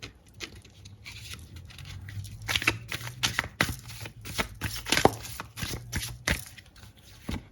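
Tarot cards are shuffled and drawn by hand, with soft papery riffles and light taps coming in quick irregular bursts, close and fairly quiet.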